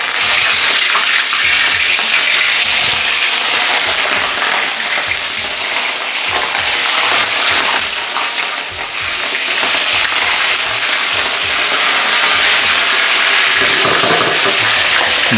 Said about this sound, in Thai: จะทำการทอดปลาก่อนครับ